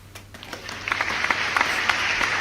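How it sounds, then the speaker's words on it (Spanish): A short burst of clapping, a small group of hands patting in a quick irregular rhythm, rising slightly and staying close and moderately loud throughout. "se merece un aplauso"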